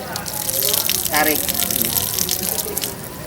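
Tap water gushes steadily from a faucet during wudhu ablution practice at a vocational school, with a voice speaking over the running stream.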